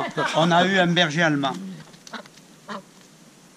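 Duck quacks sound in short bursts after a person finishes speaking, moderately close and a little faint, with talk at the start.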